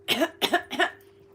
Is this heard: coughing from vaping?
yes